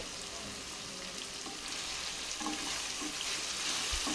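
Capsicum and mixed vegetables with a little salt being stirred and sautéed in a pan, giving a brief, close, steady sizzle with soft stirring scrapes.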